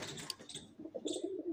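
Pigeons cooing in Bhopal: a low, throaty coo rolls in and swells near the end, with softer chirpy bird noise earlier and no voices.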